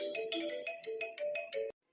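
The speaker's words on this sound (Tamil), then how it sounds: "ஃபோன் பண்ணிட்டான், இப்போ நம்ம அட்டன் பண்ணுவோம்." A phone ringtone for an incoming call in an animated episode plays a bright, repeating electronic melody of quick chiming notes for under two seconds, then cuts off abruptly into silence, with no voices.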